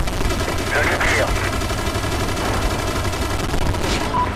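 Call of Duty MW3 gameplay with heavy bursts of automatic gunfire in loud continuous volleys, alongside game voices speaking over the shooting.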